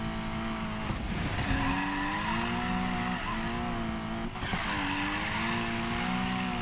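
Tires squeal as a car drifts in the Need for Speed Payback video game, steady and loud, with the racing engine's tone rising and falling under the screech and no one talking over it.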